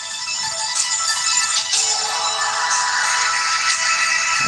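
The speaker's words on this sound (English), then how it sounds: "I have no idea what that noise is coming on my phone for" A smartphone sounds a notification: a bright, sustained electronic chime with a few tonal steps, steady and fairly loud, with no talking over it.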